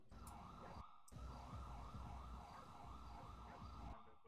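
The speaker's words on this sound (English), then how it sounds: "Yeah, I hear sirens." A wailing emergency siren cycles up and down repeatedly, fairly close, over a low engine rumble, with a brief cutout near the start.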